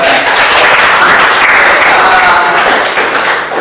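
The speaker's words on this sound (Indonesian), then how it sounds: "tepuk tangan dulu" A classroom full of people claps steadily for a few seconds, dense and fairly loud, with some scattered voices mixed in.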